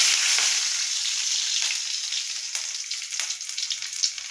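Garlic cloves with broken chillies and nigella seeds fry in hot oil in a wok, a loud close sizzle easing slightly over time, with scattered crackles and pops toward the end.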